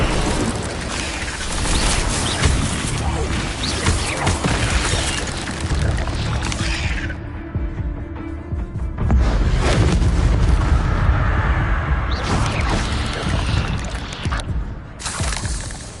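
A fire spell is cast in a Hogwarts video game, giving loud, dense roaring blasts. The burst briefly drops away near the middle, then surges back just as strongly.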